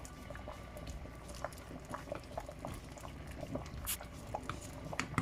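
Jamaican red peas soup with noodles is stirred in a pot, giving a steady close bubbling, liquid patter with scattered soft clicks and scrapes throughout, no talking.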